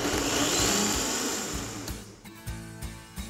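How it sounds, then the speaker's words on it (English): A high-powered blender purees soup in a restaurant kitchen with a loud whirring roar that winds down, followed by several dull knocks and clunks. "the chef transfers the soup into a blender to give it a perfectly smooth texture"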